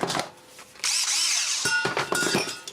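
A spare power drill for teardown work whirs up to speed once, a steady close high whine with a rising and falling pitch, after brief handling clicks and before a few knocks.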